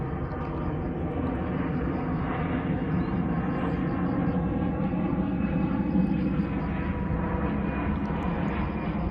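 An airplane flying overhead makes a steady, broad engine drone that stays loud and even throughout, with no voices over it.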